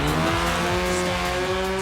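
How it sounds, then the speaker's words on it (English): A car drifting on a race track during a competition event at Yas Marina, with a steady engine drone and sustained tire noise running loud and continuous throughout, no talk. "Solid drift, but a little off track."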